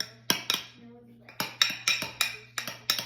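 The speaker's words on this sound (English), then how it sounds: "And then I just take the dough out. Just gonna use a spoon." A metal spoon clinks and scrapes against a bowl while scooping sourdough baguette dough out, producing sharp, close, irregular taps over a faint steady hum.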